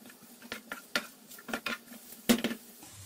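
A spoon stirs chopped onions in olive oil in a metal pot, giving irregular clinks and scrapes against the pot at close range, with a faint sizzle underneath.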